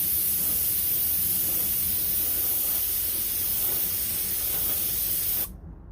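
An airbrush lays a second, thicker coat of gold-tinted Alclad chrome paint in one continuous close hiss that runs steadily for several seconds, then cuts off abruptly.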